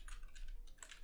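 Fast typing on a computer keyboard while writing code, a steady patter of close, light key clicks with a short pause midway, then a quick burst of keystrokes.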